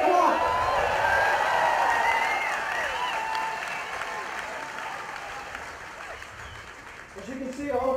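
A large crowd at an outdoor US Army Ranger demonstration applauds and cheers, loud at first and gradually fading, with a voice rising near the end.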